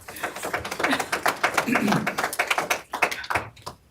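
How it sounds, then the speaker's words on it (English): Scattered applause breaks out in a courtroom after a victim statement at Bryan Kohberger's sentencing, uneven claps rising and fading over a few seconds, with speech mixed in. "A spattering of applause there, something that I've never heard in a courtroom too"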